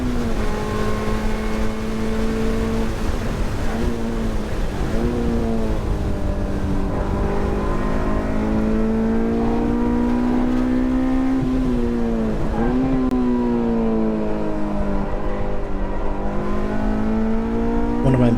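A car's engine drones loud and steady down the longest straight of a race track, its pitch climbing and dipping with throttle and gear changes for the whole stretch.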